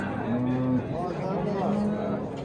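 A cow and her calf low at a livestock market, with two drawn-out moos carrying over a constant murmur of people talking nearby.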